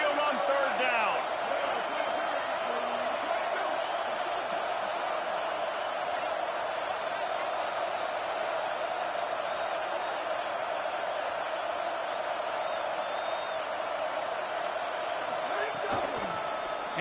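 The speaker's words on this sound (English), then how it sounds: "The Tide crowd rolling noise down onto Saban Field on third down." Stadium crowd roar in the College Football 27 video game, Alabama fans on a third down at Saban Field, a steady loud rolling din sustained throughout with a few faint ticks and thuds on top.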